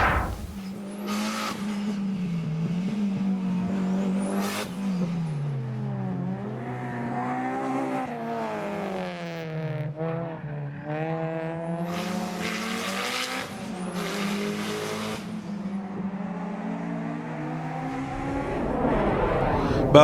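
Race cars roar around the Félix Guichard circuit at a JAP 974 chase-race day, engines droning continuously with rising and falling revs and occasional tire squeal, loud and sustained with no talk.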